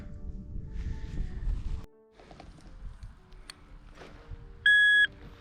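A single bright electronic beep from a metal detector, sharp and loud, sounds briefly near the end after quiet rustling and scraping outdoors in a field.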